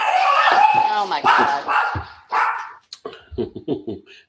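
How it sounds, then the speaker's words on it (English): Dogs bark and yip in overlapping bursts close by, loud at first and then in shorter broken yelps, with people talking underneath. "Dogs aren't fans of Chuck Woolery."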